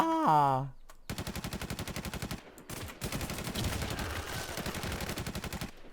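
Rapid automatic gunfire from a newly switched weapon in a video game, long bursts of fast, even shots with a short pause between them. A brief voice-like tone sounds at the very start.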